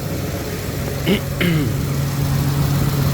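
A 6.2 truck engine idles with a steady, smooth, low rumble close by, and a couple of brief higher sounds rise over it.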